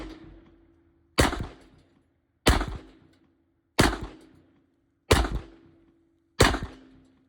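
Five loud, sharp shots from a 1911 pistol firing .45 Super plus-P rounds ring out at a steady pace, each about a second apart and each trailing off in a short echoing decay.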